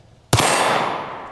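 A LifeCard .22 WMR pocket pistol fires a single sharp, loud shot after a short quiet moment, the crack ringing out and slowly fading.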